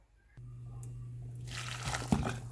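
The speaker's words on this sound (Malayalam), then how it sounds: "ഞാൻ 1 കപ്പ് വെള്ളം ഇവിടെ ഒഴിച്ചു കൊടുത്തിട്ടുണ്ട്" Water poured from a cup into a cooking pan while making chicken lababdar, a steady close liquid splash and hiss building over a couple of seconds with a brief louder slosh near the end.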